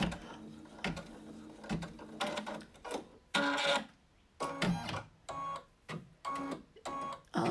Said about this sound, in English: you can see it's stitching out that fill area now